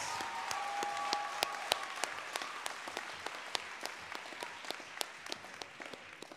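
A graduation audience applauds the rising seniors, mostly sparse, distinct handclaps at a faint level, with individual sharp claps standing out over a soft, scattered patter.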